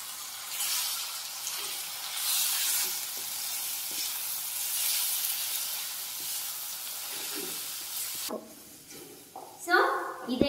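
Amaranth leaf curry fries with chilli powder in a hot pan, giving a steady close sizzle with soft stirring scrapes. It drops off near the end and a few louder utensil knocks follow.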